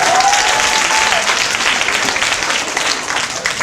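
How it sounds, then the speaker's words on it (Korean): Audience applause at a company recruitment information session, a loud, close wash of clapping from the crowd that holds steady and eases slightly toward the end. "박수 한번 주셔도 되는데"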